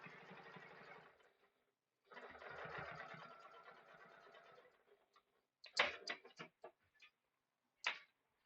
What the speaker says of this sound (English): you're just going to top stitch along here 1/8 of an inch away